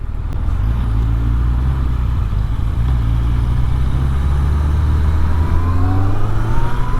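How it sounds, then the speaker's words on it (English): A Yamaha XJR1300 four-cylinder motorcycle engine pulls up through the revs, a steady loud droning hum with rising tones toward the end, close and continuous with no talk. "This engine sounds beautiful."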